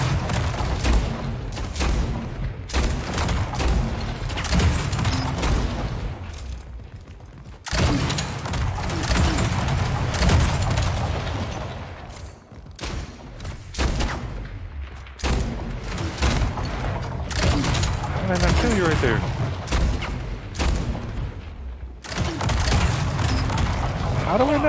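Rocket launcher shots and explosions in the arena shooter Splitgate come as repeated loud, booming bursts with short gaps between them, under ongoing excited talk.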